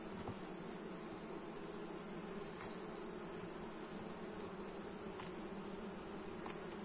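Honey bees hum steadily at an open hive in autumn, a dense, continuous close-up buzz with individual insects flitting past the microphone now and then.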